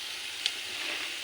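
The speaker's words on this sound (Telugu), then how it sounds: "పచ్చిమిర్చి. కొద్దిగా ఎగితే బాగుంటుందండి ఆయిల్లో" Green chillies fry in hot oil, a steady soft sizzle with one brief crackle, close and alone for about a second.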